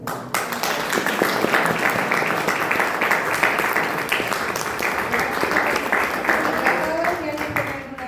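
An audience claps for a guest speaker at a talk on the municipal chronicler of El Oro, State of Mexico, a sustained round of applause with voices mixed in that fades toward the end.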